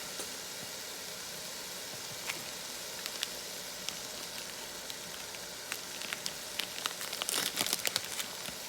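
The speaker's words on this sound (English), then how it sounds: "I'm going to go ahead and be opening up the sauce package" Faint crinkling of a plastic sauce package being torn open, growing busier toward the end, over a steady sizzle of frozen chicken lo mein frying in a pan.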